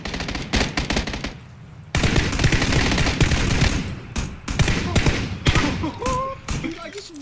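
Rapid automatic gunfire in PUBG (PlayerUnknown's Battlegrounds), loud bursts of shots that stop briefly and then resume in dense volleys, with a few short pauses and no talking.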